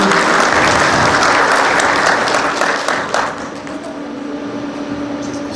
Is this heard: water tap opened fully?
no